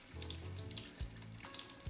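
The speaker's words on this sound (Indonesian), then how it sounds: "Oke, Ririn yang cuci sayurannya ya" Tap water runs steadily into a sink while vegetables are washed, a soft continuous splash with light bumps and knocks from handling, recorded fairly quietly.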